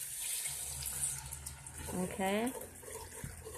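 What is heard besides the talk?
water poured into pan with browned hamburger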